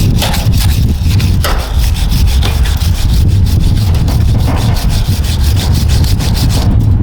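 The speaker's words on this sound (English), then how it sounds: "So you just take a wire brush, you just kind of go at it like this." A stiff wire brush scrubs flesh off a deer skull in steady, loud, rapid rasping strokes, close up and continuous, with no voices.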